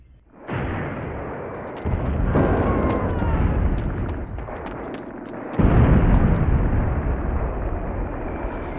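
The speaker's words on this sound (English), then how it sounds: "there's no way the airstrikes could possibly be helpful when you place the SAM sites like this" Airstrike explosions in the video game Command & Conquer, a series of loud booming blasts that roll into one another over several seconds, with heavy low rumble and fresh bursts hitting twice.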